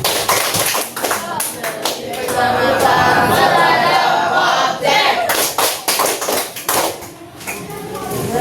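A class performs the Tepuk LHO group clapping pattern, with crisp rhythmic claps and taps from many hands, mixed with voices speaking and chanting over and between the beats.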